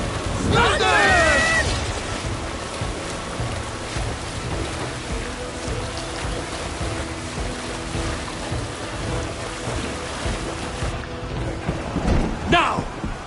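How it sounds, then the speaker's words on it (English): Thunder in a PS4 video game rumbles as a long rolling wash under steady rain. It comes with a sharper crack at the start and another near the end, and game voices are heard over it. "Thunder!"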